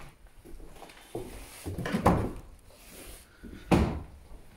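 An old wooden door in a historic mansion, the Cevat Bey Konağı in Fatsa, Ordu, is handled with a series of knocks, creaks and rattling thuds, two heavier bumps standing out, close and without speech.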